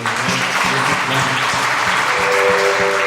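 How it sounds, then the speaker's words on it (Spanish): A church congregation claps together during a Sunday worship service, steady and loud throughout, with sustained organ or keyboard chords underneath. "Denle un aplauso más grande a Dios"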